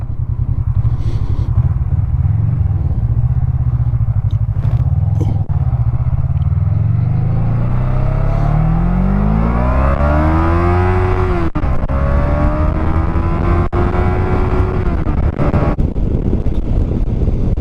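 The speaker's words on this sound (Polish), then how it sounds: "teraz pójdę na przyspieszenie z jedynki do 100 km na godzinę." A car accelerating hard from first gear up to 100 km/h: loud, close engine roar rising steadily in pitch, dropping at each upshift and climbing again, with heavy wind buffeting over the microphone.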